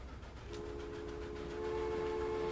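A train in the Transport Fever 2 video game runs along the track, with a steady rolling rumble and a sustained horn tone that swells louder toward the end.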